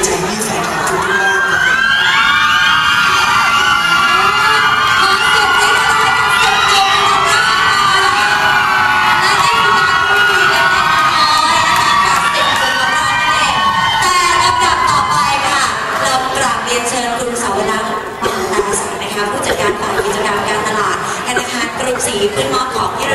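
A fan club crowd at a Thai concert cheers and screams nonstop, with high-pitched shrieks and whoops layered into a dense, loud roar that lasts throughout.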